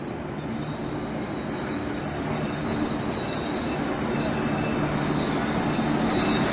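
A train arrives at a country rail station during a Melbourne to Maryborough race, a steady broad rumble growing slightly louder throughout, with faint background voices.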